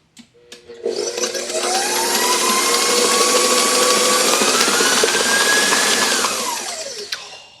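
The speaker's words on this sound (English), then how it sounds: "And I'm just going to give it one last mix." An electric mixer with a paddle beats cream cheese icing for a raspberry layer cake, whirring loud and steady for several seconds with a rising motor pitch before spinning down at the end.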